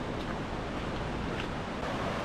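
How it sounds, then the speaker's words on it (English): A swollen creek, normally a trickle, rushes like a full river along a trail in the Columbia River Gorge, giving a steady, loud broadband roar of flowing water mixed with wind buffeting the microphone, with no voices. "This is normally a creek that like trickles, and now it looks like a full-on river."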